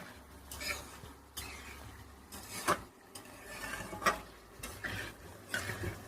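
Broiler chicken for biryani is stirred and fried in a pot, heard as repeated rasping scrapes of a spoon in uneven strokes over a low, soft sizzle.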